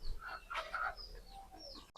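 Pigeons in a coop give off a string of soft calls and rustling movements for about two seconds, ending with a sudden loud clatter right at the close.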